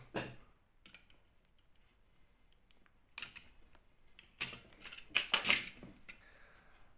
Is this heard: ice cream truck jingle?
no